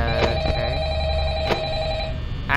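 Telephone ringing in the horror game Five Nights at Freddy's, a sustained electronic ring tone with a few sharp clicks over a steady low room hum.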